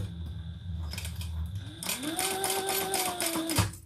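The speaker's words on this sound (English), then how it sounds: "let's sew around the inside with our pocket flat open." A sewing machine stitches around the inside of a flat, open pocket on a custom-made piece. The motor whine rises in pitch as it speeds up, then runs evenly before cutting off.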